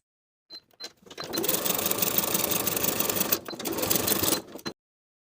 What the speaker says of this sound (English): Edge stitch close to that bottom fold straight across